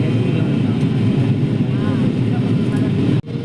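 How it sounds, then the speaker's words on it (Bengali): An airplane descending to land over Dhaka drones with a steady, loud cabin engine rumble, briefly cutting out near the end, with a person speaking over it. "আস্তে আস্তে এখন বিমান ল্যান্ড করবে"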